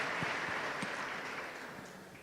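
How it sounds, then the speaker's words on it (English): A conference audience applauds the team on stage at a summit, a steady wash of clapping at moderate distance that tapers slightly toward the end. "I just would like to ask for a big applause for them, please."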